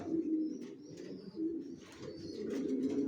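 Young racing pigeons coo in soft, low, repeated phrases, close by and quiet, with faint chirps above and no talking.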